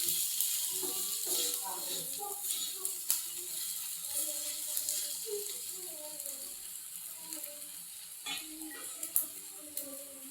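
Fried bombil fish being stirred into an onion curry sizzling in a pan, with a steady close hiss and soft scraping under a speaking voice.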